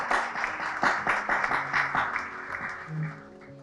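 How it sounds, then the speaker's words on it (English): Audience applause at a Rotary District 2485 gala night in Prishtina, a steady wash of clapping from a seated crowd with a few sharper claps near the front, thinning slightly toward the end as a voice briefly hums. "So a big applause for my dear brother Arjan Hoja."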